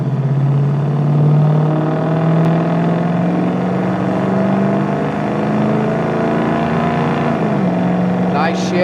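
A 1966 Ford Mustang Fastback, freshly restored mechanically, accelerating toward highway speed: a loud, steady engine drone heard from inside the car that climbs in pitch, then dips briefly as a gear shift lands near the end and pulls on again.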